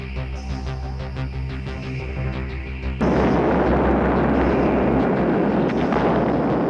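A bomb detonates at an atomic weapons test. A steady droning hum gives way to a sudden loud broadband roar that continues to the end.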